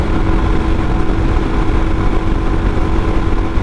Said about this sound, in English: Going uphill, we're maintaining a 75 and I'm full throttle